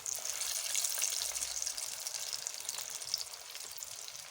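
Falafel chickpea patties frying in hot oil over a medium flame, a close, continuous bright sizzle with crackling pops, steady and fairly loud from start to finish.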